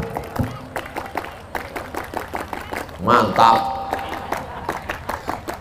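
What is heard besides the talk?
scouts' rhythmic clapping (tepuk pramuka) at a sermon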